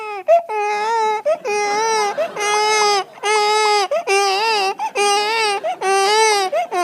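A comedian on stage at a live comedy club imitates a crying baby with his voice, making a run of loud, wailing, rising and falling sobs broken by short gasps.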